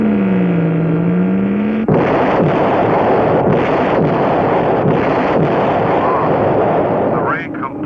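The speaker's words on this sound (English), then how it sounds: "The ray completely powdered that asteroid." A cartoon ray gun fires a blast that pulverises an asteroid, opening with a descending electronic tone and then breaking into a long, loud, rumbling roar of noise that fades with a few warbling sweeps at the end.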